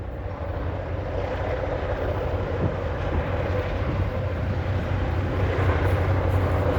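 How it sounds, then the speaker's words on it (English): A train approaches an old 1870s rail station, a steady low rumble that slowly grows louder with a broad, distant roar. "I can hear the train coming."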